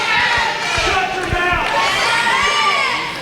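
A wrestling crowd cheers and shouts loudly at a Kingsport championship bout, a roaring wall of voices with whistles and thumps from the ring, while a commentator talks over it.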